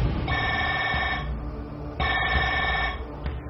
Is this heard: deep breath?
no